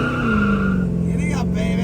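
A 1970 Chevrolet Chevelle launches from a stop with a loud, close engine roar that holds a steady low drone and edges upward, with a brief tire-squeal texture near the end.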